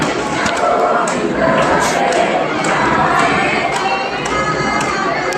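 Dense crowd of devotees at the Dwarkadhish temple, a continuous roar of many voices with scattered taps and thumps, close and steady throughout.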